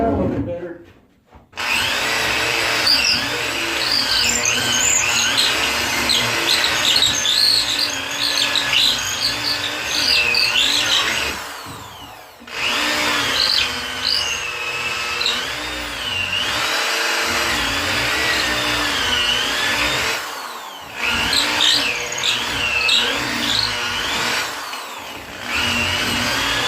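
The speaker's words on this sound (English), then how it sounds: "drill these suckers out a little bit better." A power drill whines in long bursts as it enlarges holes in a wooden taxidermy base for a mounted bobcat, with the pitch wavering under load and brief pauses between passes.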